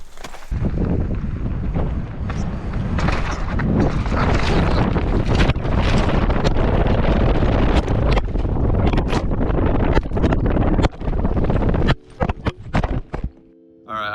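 Heavy wind buffets a microphone during a mountain bike ride at a freeride event, a loud continuous roar with thumps that drops away near the end.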